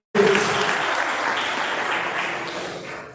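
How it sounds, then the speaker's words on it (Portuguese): A church congregation bursts into sustained applause and cheering for about three seconds during a worship service, loud and dense from start to finish. "Então vamos aplaudindo, aleluia!"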